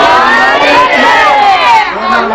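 Crowd at a Milad (Eid Milad un-Nabi) religious gathering shouting slogans together, a loud, continuous mass of voices rising and falling in unison throughout.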